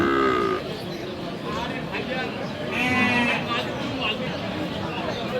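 Sheep bleat at an outdoor cattle market, a few wavering calls rising above crowd chatter and people talking nearby, with a steady hubbub of livestock and buyers filling the background.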